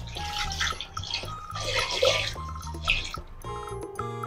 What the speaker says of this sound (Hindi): अब हम इसमें पानी डाल लेंगे।